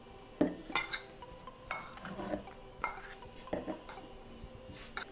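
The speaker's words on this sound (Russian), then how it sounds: "Теперь с вами нужно все хорошо перемешать." Shrimp and squid salad being mixed in a dish, with scattered clinks and scrapes of a utensil against the bowl at an irregular pace, fairly close and moderately quiet.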